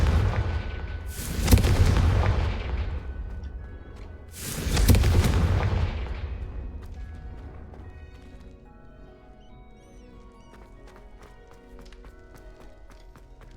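Two booming fire-spell blasts from the Confringo spell in a video game, each a loud broadband burst with a long fading rumble, followed by scattered faint clicks and small crackling game sounds as the scene settles.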